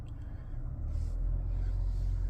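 Low, steady engine rumble from a 2024 BMW X1/X2 M35i switched into sport mode, heard alone with a slight swell partway through and no voices.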